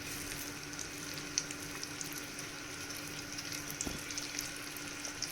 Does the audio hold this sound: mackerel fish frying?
yes